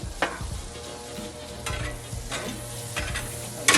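Butter sizzling on a Blackstone griddle while making French toast, a steady close sizzle punctuated by several sharp spatula scrapes and taps, moderately loud with no talking.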